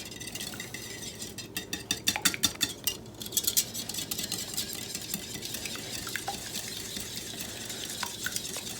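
Egg being beaten with a whisk in a bowl, quick clinking metallic strokes in bursts, close and fairly quiet, for meatloaf mix.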